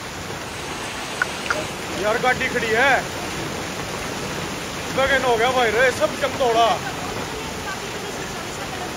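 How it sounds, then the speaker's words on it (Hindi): Heavy rain pouring down in a steady, broadband hiss that runs throughout, with a voice talking over it in two short bursts. "देखो काफी तेज बारिश आ गई और ऐसा लग रहा है कि रुकने वाला नहीं है दो दिन तक, इतनी तेज बारिश है"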